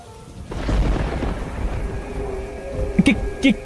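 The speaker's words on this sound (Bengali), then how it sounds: "এই ঝড় বৃষ্টির মধ্যে এইভাবে বাইরে ঘুরে বেড়াচ্ছ কেন?" Heavy rain pours down in an animated cartoon thunderstorm as a deep roll of thunder swells, then a couple of short higher sounds cut through near the end.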